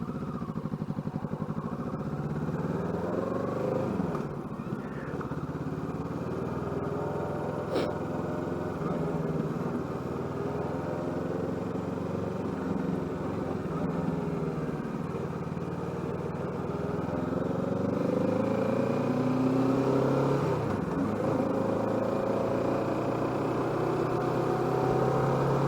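A Kawasaki Ninja 650 KRT motorcycle cruises steadily along a road, its engine droning continuously with wind noise beneath a rider talking throughout.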